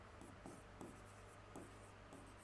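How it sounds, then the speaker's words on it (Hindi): Marker or chalk strokes on a classroom board while an answer is written, soft rubbing scratches in short bursts about every half second over a steady low hum, fairly faint and with no talking. "सेकंड आंसर यहाँ लिखते हैं।"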